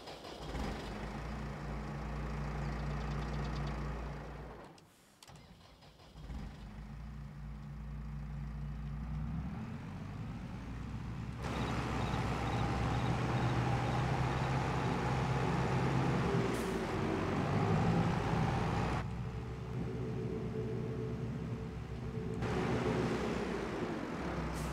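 New Holland Metane tractor engine in a Farming Simulator 22 mod, a steady low rumble that idles, briefly cuts out near five seconds, then revs up and holds a louder drone with shifting pitch.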